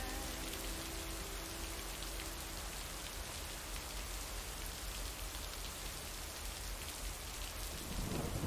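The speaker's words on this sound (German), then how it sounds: "Der Regen hier ist eher so laut," Loud rain pours steadily, a dense hiss of drops hitting surfaces, with a low rumble early on and a heavier burst near the end.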